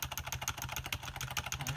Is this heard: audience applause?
no